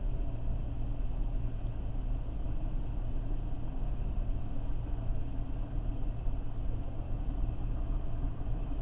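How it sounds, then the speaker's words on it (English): A steady, heavy low rumble holds constant throughout, like a long train rolling past nearby without pause. "You can enjoy a train coming by."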